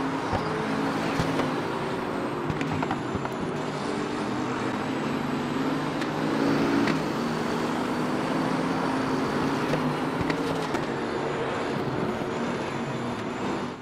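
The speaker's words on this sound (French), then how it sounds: "je vous ai laissé profiter de ce départ ici à Zandvoort avec cette Bentley Continental GT3" Race cars roar off a start at Zandvoort in a racing game, a Bentley Continental GT3 among them, with a steady dense engine drone and whine sustained throughout, loud and continuous with no talk.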